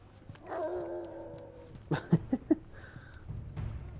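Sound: dogs barking in the video game The Last of Us

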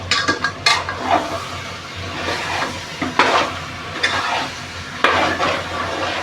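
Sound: potato pieces being sautéed in prawn masala pan

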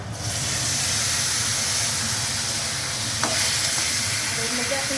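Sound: potatoes with paneer frying in a pan

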